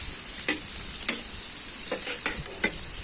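Seafood paella cooking slowly over a fire, a constant bright hiss of sizzling broken by a handful of sharp ticks and knocks scattered through the clip.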